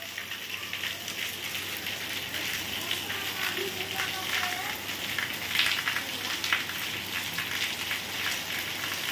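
Heavy rain pours down in a dense, steady hiss with scattered drumming on surfaces, close and continuous throughout, with a voice speaking faintly in the background.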